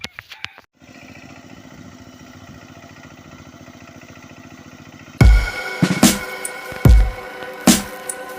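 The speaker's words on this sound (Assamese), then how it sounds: "এইটোকে ট্ৰেক্টৰ ষ্টাৰ্ট কৰিব লাগিব" A tractor engine cranks and catches, then runs with a steady low idle before several loud, uneven revving bursts close by.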